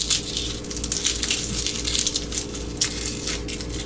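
Dry papery outer skin being peeled and rubbed off garlic bulbs before planting, a close, continuous crinkly rustle with small crackles throughout, no voices.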